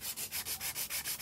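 Gel nails are filed and shaped by hand, giving about eight rhythmic, close, raspy strokes in steady succession with no voices.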